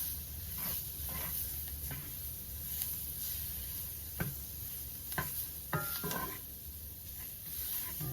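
Liver and onions frying in a pan, a low steady sizzle running throughout with a few soft scraping clicks from stirring, close and moderately quiet, with no talking.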